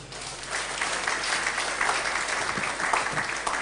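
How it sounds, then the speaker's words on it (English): Sustained applause from an audience at an evening mentoring program, a broad, even patter of many hands clapping throughout at a steady, fairly loud level, with no talking on top. "Please, another round of applause."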